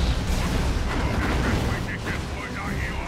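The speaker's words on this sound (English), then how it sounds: "Stick bombs, throwing some grenades, very nice." Stick bombs and grenades bursting in a Dawn of War 2 battle, a steady roar of overlapping explosions and gunfire filling the whole stretch, with a voice talking over the din.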